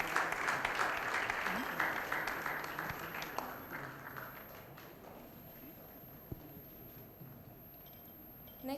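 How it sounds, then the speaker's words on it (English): An audience applauds at a press conference on colorectal cancer, a dense clapping that fades from loud to a thinner patter over several seconds, with some voices underneath. "I think the clap should continue."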